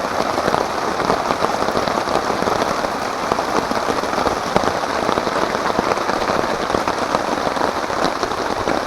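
Steady, dense rain patters on a taut tarp at a lakeshore campsite, a continuous close hiss of drops with no voices.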